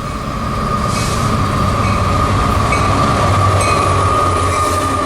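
A freight train led by an EMD locomotive rolls past at night, a loud, constant rumble of wagons with a steady tonal hum and occasional faint wheel squeals, close by and without speech.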